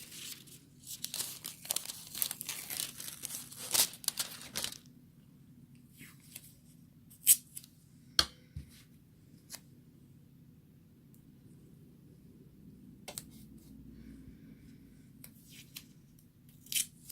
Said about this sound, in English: and then I need to tape down the die.